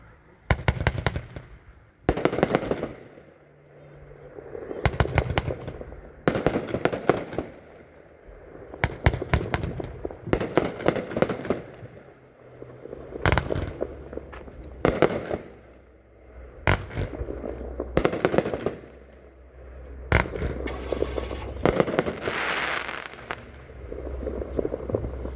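A Pyro Planet 24-shot Dragon Blaze firework cake fires in a rapid series of sharp launches and booming bursts at an outdoor demo, the loud cracks coming in clusters with brief gaps and faint crowd voices underneath.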